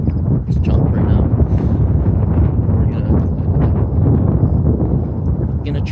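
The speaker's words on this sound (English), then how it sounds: "The wind's actually picked up since we started recording too." Wind buffets the microphone in gusty, rumbling bursts outdoors while a person talks throughout.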